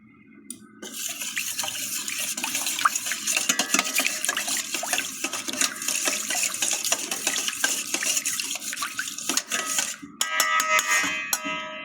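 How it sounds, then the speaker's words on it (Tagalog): Water with aji seasoning is stirred in a bowl to make a marinade for pork chops, giving a continuous close swishing and sloshing with light clinks, ending in a brighter splashing near the finish. "ating hahaluin yung tubig"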